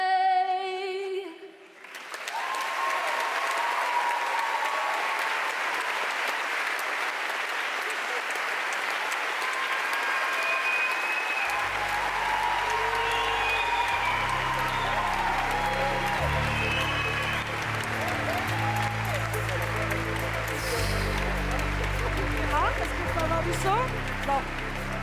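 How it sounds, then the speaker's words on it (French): An audience claps after a speech at the international final of an eloquence contest. The applause is steady, dense and sustained, with a voice and rhythmic music joining underneath partway through. "du bruit encore pour Louise"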